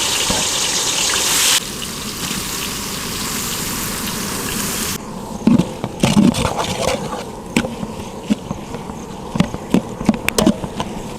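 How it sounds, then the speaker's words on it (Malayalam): Onions drop into hot oil in a pan for a fish biryani, first making a loud, steady sizzling hiss, then settling into quieter frying with scattered pops and light clatter. "നമുക്ക് ഇതിലേക്ക് ഉള്ളി ഇട്ട് കൊടുക്കാം"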